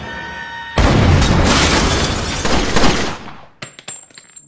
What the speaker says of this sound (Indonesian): Thomas menembak pria tersebut